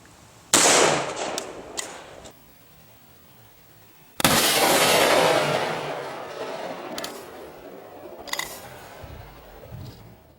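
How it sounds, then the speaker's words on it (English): Two sharp, loud rifle shots of 7.62x39 123-grain FMJ Red Army Standard Elite ammunition fired into a ballistics gel block, each a sudden blast followed by a long decaying echo, with faint clatter between. "shoot it one more time"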